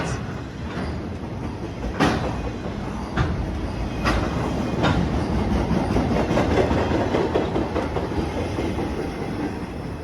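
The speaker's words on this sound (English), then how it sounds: "CSX m316-18 eastbound mixed freight train" A CSX eastbound mixed freight train rolls past nearby, a steady loud rumble with rhythmic clickety-clack of wheels over rail joints and occasional sharp clanks.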